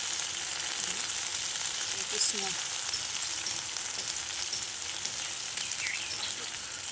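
Ginger goes into hot oil for a vegetarian okra dish made without onion or garlic, giving a steady, even sizzle and crackle close by with no speech.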